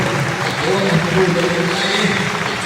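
A group of people clap their hands in a steady, dense patter during a Yoruba drama scene, with a voice or tonal sound running underneath the applause.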